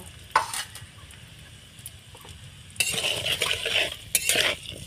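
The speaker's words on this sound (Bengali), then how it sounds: "আগে আমি আলু দিয়ে দিলাম, আর পেঁপে কেটে রাখা পেঁপে দিয়ে দিলাম, দিয়ে আমি ভালোভাবে ভেজে নেব।" Potato and papaya being stirred and fried in a pan for shukto, a Bengali festive vegetable dish: scraping utensil-on-pan clatter and sizzle, quieter at first, then louder stirring bursts near the end.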